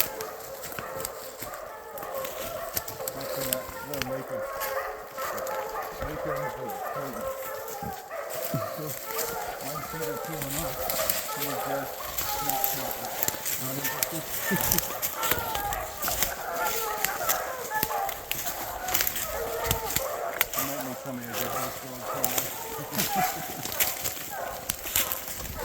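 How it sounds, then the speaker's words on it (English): Hunting dogs bark and bay continuously at a bear treed in British Columbia bush, an overlapping chorus of yelps at mid distance, with people talking over the din. "It's the dogs."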